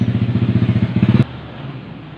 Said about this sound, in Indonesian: ribut suaranya, banyak suara motor